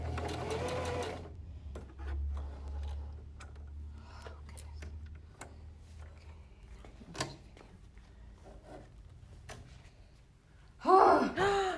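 Sewing machine back stitching over elastic at the end of a fabric face mask seam, a brief loud whirring burst at the start, then quiet handling noises and a voice near the end.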